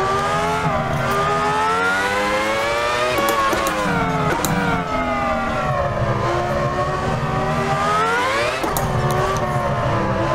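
Irvine's 1999 Ferrari Formula 1 car lapping Fiorano in Assetto Corsa, its engine screaming loud and close at high revs, the pitch climbing and dropping sharply through quick gear changes, with no pauses.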